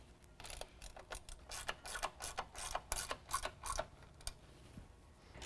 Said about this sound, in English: we're going to take a 10mm and we're going to tighten down all the nuts on the brackets